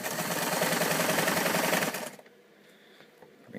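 Singer 237 sewing machine stitching fabric, a loud, steady rapid mechanical chatter for about two seconds, then stopping into near quiet with faint handling clicks.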